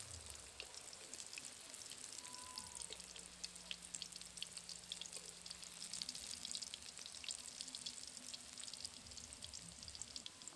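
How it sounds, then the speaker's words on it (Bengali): Kakrol (spiny gourd) patties frying in oil, one side browning, giving a soft, even crackle of popping oil droplets over a low hum, quiet and steady throughout with no talk. "একটা দিক ভাজা হবে, তারপরে উল্টে দিয়ে ভেজে নেব।"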